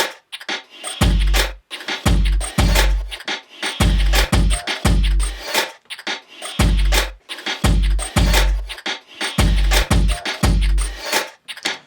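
A punchy electronic drum beat loops with deep kicks and crisp hi-hats in a steady, repeating rhythm, loud and without any voices.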